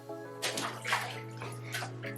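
A waterproof Soundcore Motion Boom speaker is dropped into water, giving a couple of splashy bursts and sloshing over a steady low hum, moderately quiet and close.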